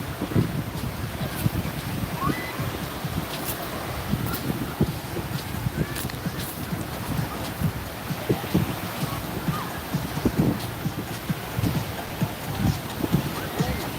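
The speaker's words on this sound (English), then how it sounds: "It's a little windy, hope you can hear me." Steady wind buffeting the microphone on a Philippine beach, a constant rough rumble with gusty surges lasting the whole stretch, loud and close, with faint surf underneath.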